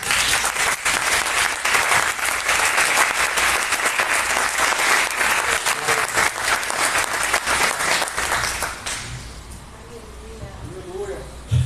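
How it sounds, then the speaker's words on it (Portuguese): A church congregation claps steadily and loudly in worship for about nine seconds, then the applause fades into a quieter room with a few voices. "Por favor, adore a Deus com palmas."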